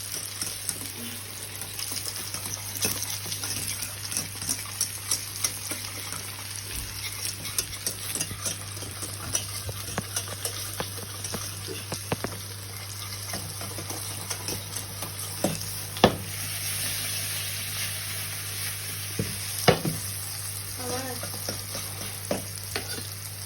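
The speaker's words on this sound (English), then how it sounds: "Emulsify that butter into the sauce." Butter stirred into a sizzling pan sauce for venison steaks, with steady frying hiss and repeated spoon scrapes and clinks against the pan over a low background hum.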